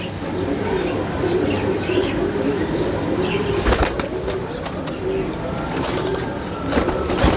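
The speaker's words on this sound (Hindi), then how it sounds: "जानदार टेडी कबूतर हैं ये सारे" Pigeons, including fancy breeds kept by a pigeon fancier, coo softly and steadily nearby, with a few sudden bursts of wing flapping breaking through the low murmur.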